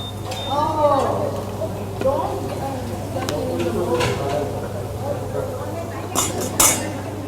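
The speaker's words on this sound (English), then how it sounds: "In fact, I'm going to cut it." A knife and fork cut a cooked portion on a plate during a low-cost meal preparation for seniors, giving light clinks and scrapes against the plate, with a sharper clatter near the end, under steady talk and a constant low hum.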